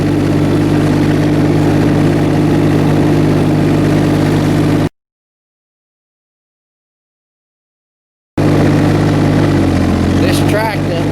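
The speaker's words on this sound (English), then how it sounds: "I'm gonna use the tractor to put the trailer out of the way somewhere" A Mahindra eMax 22hp tractor's diesel engine runs at a steady idle with a low drone, cuts out for about three seconds, then returns with a brief rise in pitch.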